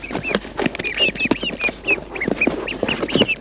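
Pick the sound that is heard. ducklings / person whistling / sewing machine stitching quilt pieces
ducklings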